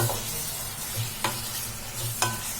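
Rava paniyaram being stirred into sizzling masala in a pan, a continuous close sizzle with scraping strokes and two sharp utensil knocks against the pan.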